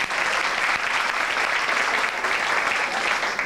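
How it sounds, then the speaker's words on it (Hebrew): Applause from the audience at a live stage show: loud, continuous clapping that stays full and even for several seconds. "מחיאות כפיים."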